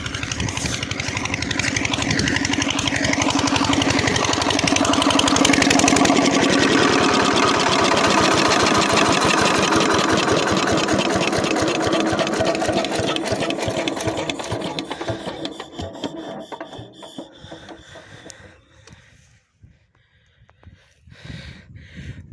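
An old Kirloskar irrigation pump engine watering a wheat field runs with a loud, steady, rapid mechanical chugging that holds for about fifteen seconds, then fades and becomes uneven toward the end.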